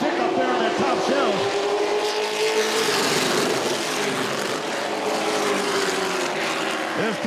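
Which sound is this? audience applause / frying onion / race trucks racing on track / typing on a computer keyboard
race trucks racing on track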